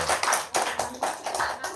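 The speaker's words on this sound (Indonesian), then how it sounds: "Tepuk tangan dulu dong." A small group of people clapping at an informal gathering, quick steady bursts of applause about four per second, close and moderately loud, with faint voices beneath.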